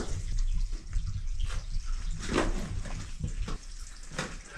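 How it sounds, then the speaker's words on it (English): Water trickles and drips steadily inside a hollow underground complex in a mountain, a soft continuous flow with faint splashes and no talk. "There's a little water, you can hear it."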